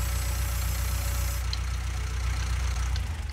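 A tractor engine idles steadily in Farming Simulator 19, a constant low rumble with a faint hiss and no speech.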